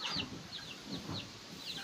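A small flock of eight Brown Dekalb hens clucks nearby in short, repeated high calls that recur every half second or so over a steady low background hum.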